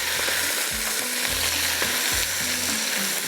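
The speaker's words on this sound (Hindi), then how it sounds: "देखिए, इसको अच्छी तरह से भून लीजिएगा" Mutton frying in a pan with ginger garlic paste, a constant loud sizzle with repeated low scraping strokes of stirring at an uneven rhythm, no voices.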